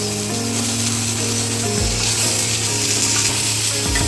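Chopped onion stalks with turmeric fry in a pan, giving a steady close sizzle under a couple of scraping stirs with a spatula.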